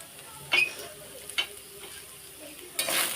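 Salt, turmeric and cumin powder being stirred and fried in a pan, with a few scraping strokes of a spoon over a quiet sizzle and a brief clatter near the end.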